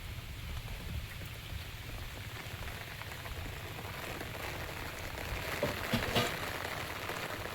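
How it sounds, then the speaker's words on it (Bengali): Steady, unbroken rain falls on and around a small, wind-exposed kitchen where water is pooling inside, a dense hiss that holds throughout and swells slightly near the end. "দেখুন কন্টিনিউ বৃষ্টি হচ্ছে, ভিতরে কত জল জমেছে দেখুন।"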